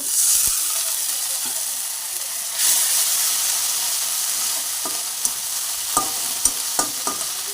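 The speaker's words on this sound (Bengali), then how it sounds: "মশলাটা ততক্ষণ ভাজবো যতক্ষণ আদা রসুনের কাঁচা গন্ধটা চলে না যায়।" Ginger and garlic spice paste fries in a pan with a continuous bright sizzling hiss, louder after a splash of water, while scattered scrapes and taps from stirring sound near the end.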